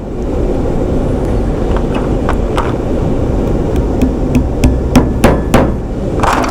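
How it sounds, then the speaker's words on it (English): A small hammer taps tacks into the wooden band of a Shaker box, a run of light metallic taps that grows quicker and louder toward the end over a steady background rumble. "Sometimes you see me hammering around in a circle. I'm actually just centering the tack back up vertical."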